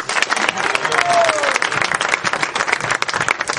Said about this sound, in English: Can you please give them one more round of applause?